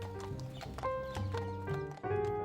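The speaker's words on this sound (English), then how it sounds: "patrolling the park on horseback makes perfect sense" Mounted police horses walking on patrol in a park in Rome, hooves clip-clopping in an irregular steady rhythm, moderately close and faint over a soft musical background.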